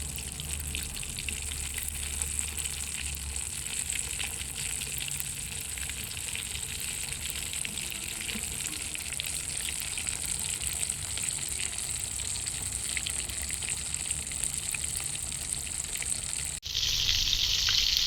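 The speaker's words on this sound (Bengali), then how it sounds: "দেখুন বন্ধুরা, এই উইংসগুলো আমার ভাজা ভাজা হয়ে এসছে।" Chicken wings fry in oil with a continuous, close bubbling sizzle that holds steady for a long stretch and grows louder and brighter near the end.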